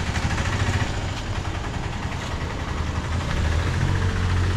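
A tractor with a trailer hitched behind idles in a Sri Lankan village, its engine a steady low rumble that blends into a broad wash of outdoor noise, loud and constant with no voices.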